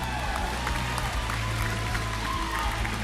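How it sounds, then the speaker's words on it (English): Applause for the esports team Selangor Red Giants at an MPL Malaysia match, a dense continuous wash of clapping from a large crowd, steady and fairly even throughout. "a round of applause for Selangor Red Giants."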